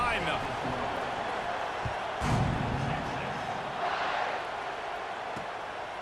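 A stadium crowd at a Texas football game roars steadily at kickoff, a dense, far-spread wash of cheering that swells briefly midway while an announcer talks over it.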